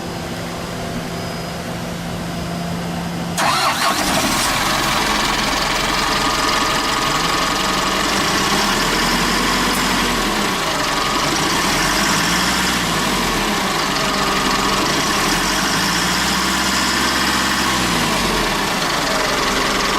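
A 2010 Nissan Diesel Condor refrigerated truck's 2990cc 150 hp intercooled turbo diesel engine starts abruptly after a quiet stretch, then settles into a loud, steady idle with a rhythmic clattering pulse, close by.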